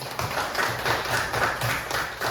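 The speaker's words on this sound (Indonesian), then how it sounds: "Luar biasa, tepuk tangan semuanya." A classroom of students claps together in quick, rhythmic bursts that sound close and fairly loud and carry on without pause during a school lesson on the Quran and hadith.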